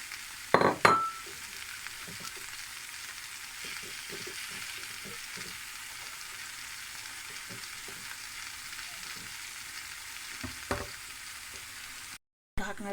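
Spinach with chopped tomato and coriander frying in a pan, a steady soft sizzle with a few clinks of a utensil near the start and again near the end, and no talking.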